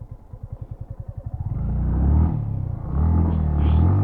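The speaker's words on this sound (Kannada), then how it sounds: "ಹಿಂಗೆ ರೌಂಡ್ ಬರ್ನಟ್ ಹೊಡಿಬೋದ, ಫುಲ್ ರೌಂಡ್ ಹಿಂಗೆ ಬರ್ನಟ್ ಹೊಡಿಬೋದು." A Yamaha MT15 motorcycle doing a full circular burnout on an off-road patch. The engine opens with a rapid low putter, then swells into a loud, rough, revving roar that dips and surges again, close by.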